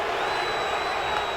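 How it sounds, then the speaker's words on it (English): A baseball video game crowd at Fenway Park boos in a steady, dense roar that holds evenly throughout without a break. "Crowd's booing"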